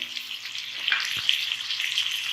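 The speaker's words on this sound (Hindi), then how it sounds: "मसाले के साथ हमने प्याज को फ्राई करना है और टमाटरों को।" Onions and tomatoes fry with spices in a pan, making a bright, steady sizzle with a faint stirring knock midway, close and without talk.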